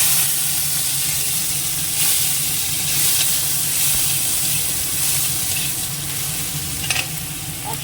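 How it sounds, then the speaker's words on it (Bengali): Prawns with green chillies and tomato sizzle and hiss steadily in a hot pan, with occasional stirring scrapes over the continuous frying. "ভালো করে এগুলো ভাজা হয়ে যাবে মজে যাবে"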